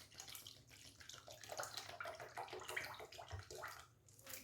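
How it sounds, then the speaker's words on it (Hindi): About a glass of water poured into milk cream in a kitchen, giving a soft, steady splashing pour that stays fairly faint throughout. "इसमें मैंने लगभग 1 गिलास पानी डाल दिया है"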